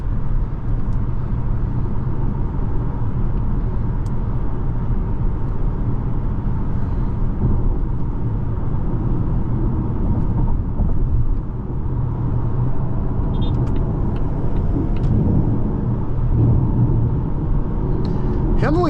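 A 2026 Volvo XC40 B5 AWD mild hybrid drives on the road, its steady low engine and tyre rumble heard from inside the cabin beneath someone talking throughout.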